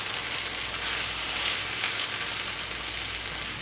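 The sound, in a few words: chicken sizzling in a pan after being flipped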